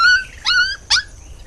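A cartoon dog gives a drawn-out whimper, then two short, high yips close by, all within a second and a half.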